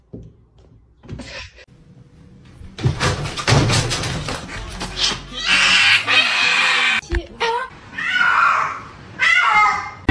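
A kitten meows and cries in several loud, drawn-out wails with short gaps between them, mixed with thumps and a bang like a door, while a person speaks nearby.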